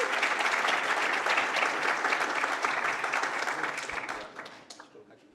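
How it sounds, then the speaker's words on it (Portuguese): Audience at a startup demo day applauds a guest speaker, dense steady clapping that gradually thins and fades out over several seconds. "Então, eu queria pedir uma salva de palmas para eles."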